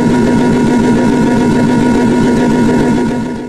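Computer-simulated 69-cylinder V69 engine idling at low RPM: a loud, continuous buzzing drone with a steady vibrating pulse and a strong low hum, unbroken by speech and easing off slightly at the very end.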